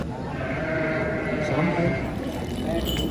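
Large Garut sheep bleat amid the bustle of a livestock market in Tanjungsari, Sumedang, with people talking over steady crowd noise throughout.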